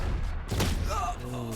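Sheriff pistol shots ring out in a Valorant match, a couple of sharp, punchy bursts amid dense in-game noise and effects.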